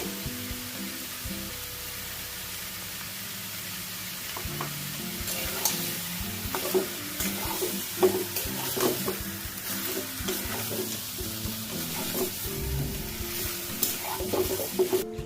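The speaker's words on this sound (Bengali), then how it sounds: "আলু আর চিকেন দিয়ে খুব ভালো করে কষবো।" Potatoes and chicken sizzle in a pan while being stirred, a steady frying hiss broken by frequent scraping and clattering spatula strokes.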